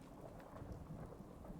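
Steady rain in the Fallout 4 video game, a low, continuous wash of rainfall with soft rumbling beneath it, faint and unbroken with no voices.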